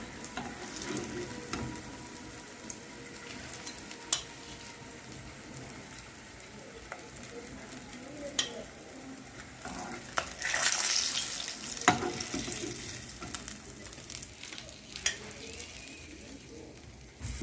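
Soft, continuous sizzle of katla fish frying in oil, broken by scattered clinks and scrapes and a brief louder hiss partway through.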